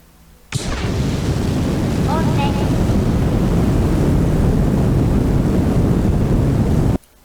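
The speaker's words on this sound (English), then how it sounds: "I know it's loud, but I love the sound the rockets make in this game" Rocket engines launching in Kerbal Space Program 2, a loud, steady roar that bursts in abruptly after a short quiet start, holds at full strength for several seconds, then cuts off sharply.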